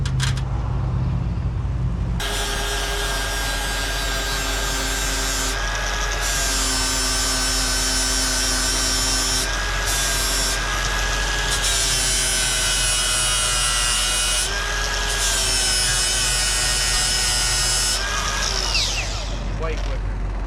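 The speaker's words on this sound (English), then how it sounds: "I'm gonna get a grinder for those" Electric grinder running steadily on car parts in a workshop, a loud continuous high-pitched whine with several short pitch dips and pauses as it bites, then spinning down at the end.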